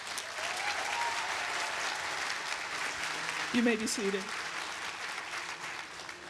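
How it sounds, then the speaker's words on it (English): Steady applause from a commencement audience honoring college trustees, sustained clapping throughout while a voice speaks briefly over it. "Please honor them with a round of applause."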